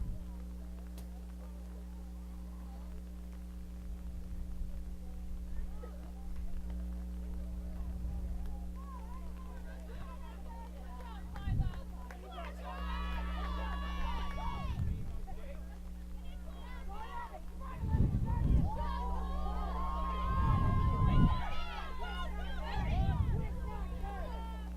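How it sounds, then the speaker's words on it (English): Crowd at a Laconia homecoming high school boys soccer game against White Mountains: distant murmuring spectators with occasional cheers and calls over a steady low hum, with thuds and a nearby voice at times. "Just letting you take in the sounds of the crowd."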